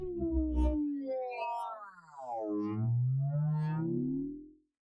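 A synthesizer sound-design patch built from a square wave: sweeping, gliding pitched tones with a buzzy, effects-laden edge that rise and fall across about five seconds, loud and alone with no voices.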